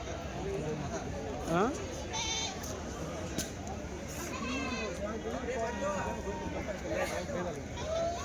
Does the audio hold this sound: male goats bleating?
yes